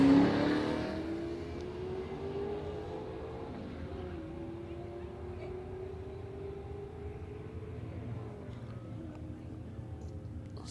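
Drag racing run at Warwick Dragway between an old Ford Falcon and a current-model Subaru BRZ, with a loud engine roar at the start that settles into a steady, sustained drone as the cars pull away.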